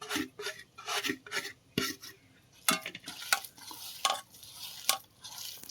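Shrimp and cucumber mixture being kneaded by hand in a bowl with a little water, soft irregular squelching and rubbing strokes with occasional clinks against the bowl, close and alone.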